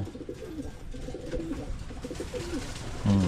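Pigeons coo while bathing, including young birds, giving repeated low throaty coos close by with little else around, and a louder burst near the end.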